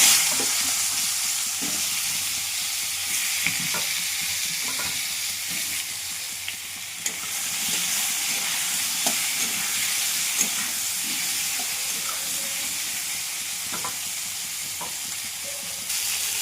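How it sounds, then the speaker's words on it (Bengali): Potatoes and eggplant stir-fry together in oil tempered with nigella seeds, a steady, loud sizzle and hiss close by, punctuated by light clinks and scrapes of stirring. "এবার আলু বেগুনগুলো একসাথে ভেজে নেব।"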